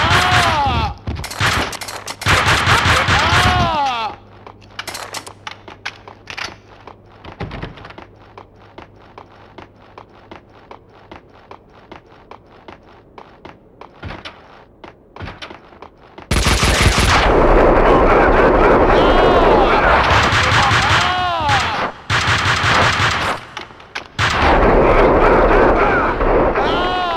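Gunfire in the video game Max Payne 2 cracks out in loud, rapid bursts, falling back to sparse shots and a low hum mid-stretch before dense, sustained volleys return.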